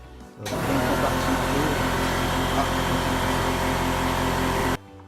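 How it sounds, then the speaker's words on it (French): An air compressor in a workshop kicks on after a short pause, settling into a loud, steady motor drone that runs for several seconds, then cuts off abruptly at the end. "c'était le compresseur qui s'est mis en route"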